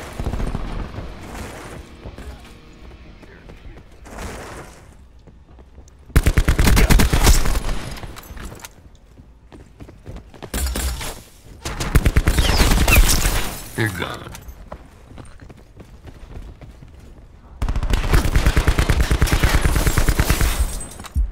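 Micro MG machine gun fire in Black Ops 4, sustained loud automatic bursts in several long stretches separated by quieter gaps of game ambience.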